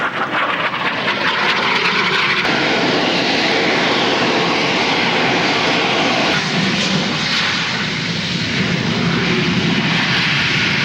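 Harrier jump jet passing low at an air show at Duxford, a loud, unbroken roaring engine blast that fills the whole stretch with a slight shift partway through, no speech.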